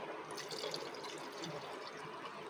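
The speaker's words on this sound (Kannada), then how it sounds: "ಈಗ ಜಾರ್ ತೊಳೆದಿರೋ ನೀರು ಕೂಡ ಹಾಕ್ಕೊಳ್ತಾ ಇದ್ದೀನಿ ಮತ್ತು ಇನ್ನೊಂದು ಗ್ಲಾಸ್ ನೀರು ಹಾಕ್ಕೊಳ್ತಾ ಇದ್ದೀನಿ" Water, including jar-rinse water and a glass more, is poured into a pot while cooking mutton biryani, a faint, steady splashing trickle that runs throughout.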